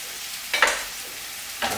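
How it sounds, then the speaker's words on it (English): Butter being stirred into onion and zucchini sizzling in a pan for a frittata, with two short bursts of scraping stir over a faint steady sizzle. "A quick stir with the butter. And the butter will melt very quickly."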